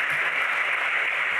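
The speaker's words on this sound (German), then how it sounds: "Nochmal einen Applaus" Brief burst of audience applause at a Christian youth festival Bible study session, a dense even wash of clapping, steady and moderately loud, with no voice over it.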